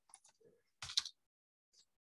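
Keystrokes on a computer keyboard while coding HTML and CSS, a few scattered light taps followed by a short burst of quick clicks, then one last soft tap, all close and fairly quiet with no voice.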